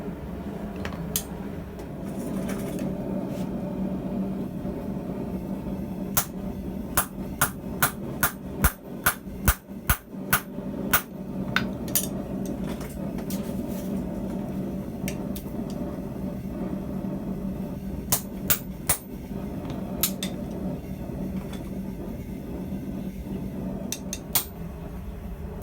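Sharp metallic hammer strikes stamping a maker's mark onto blacksmith tongs, a quick run of ringing blows in a burst, then scattered taps against a low steady background rumble.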